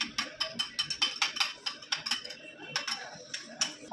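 A child beats eggs for an omelette in a bowl, making a fast, steady series of close utensil clinks against the side of the bowl with a short pause partway through, and no talking.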